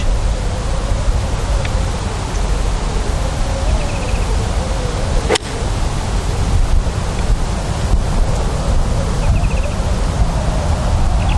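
Strong wind blows across an open golf course, a loud, steady roar buffeting the microphone with no letup and no talk.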